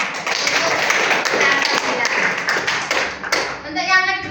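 Students in a classroom clap their hands together in a lively burst of applause, loud and close, lasting a few seconds before fading as a voice begins speaking.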